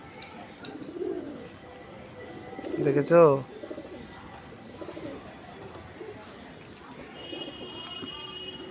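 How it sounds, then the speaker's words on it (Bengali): Pet pigeons, a male and female kept together, coo in low bursts through the clip, loudest around the middle, while a person briefly speaks nearby. "দেখো যেই পায়রাটা ডাকছে ওটা কি পায়রা বলো তো?"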